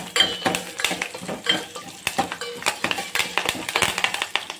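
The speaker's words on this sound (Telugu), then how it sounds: "తాలింపు, కరివేపాకు, ఇది 2 నిమిషాలు వేగనివ్వాలి." Curry leaves and tempering spices frying in a pan for a dondakaya curry, with crackling sizzle and repeated clinks and scrapes of a metal spoon stirring against the pan, close and fairly loud throughout.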